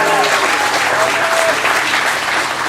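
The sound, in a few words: applause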